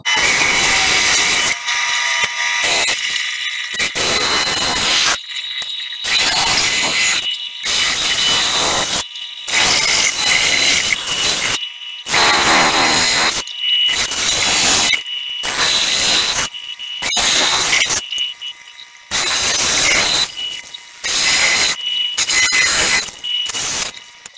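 A bandsaw cuts a wooden star shape, the blade buzzing and squealing loudly in repeated bursts separated by brief pauses as each straight edge is cut.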